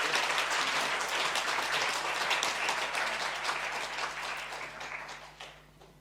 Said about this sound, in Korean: 감사한 박수로 감사하겠습니다.